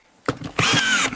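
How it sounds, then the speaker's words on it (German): A cordless screwdriver skips off a drywall screw while fixing plasterboard to prefab house walls, giving a short motor whir followed by a louder, longer grinding rattle of the bit slipping, close and loud with no talking. "manchmal hört sich das so an, wenn man die Schraube nicht hundertprozentig trifft"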